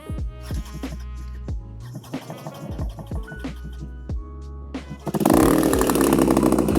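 A Chinese AliExpress paramotor engine idles in an open field in Arizona with a low, buzzing drone, then jumps abruptly to a loud, dense full-throttle roar that holds steady.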